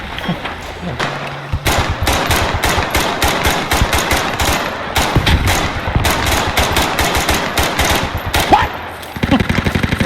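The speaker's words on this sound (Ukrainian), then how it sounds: "Саня стріляє в підлогу" Loud, rapid bursts of automatic gunfire in the video game Squad, fast rattling volleys with brief pauses, close and dominating, with a voice faintly mixed in.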